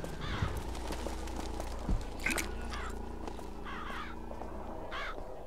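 Several harsh crow caws from Bioshock Infinite's scripted birds, repeating at irregular intervals against a steady low game ambience with no talking.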